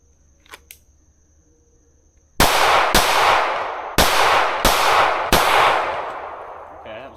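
A Staccato C2 pistol fires five sharp, loud shots at 5 yards, in a quick uneven string with short ringing decay after each, following a quiet lead-in with faint clicks.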